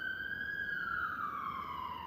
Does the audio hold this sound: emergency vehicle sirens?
yes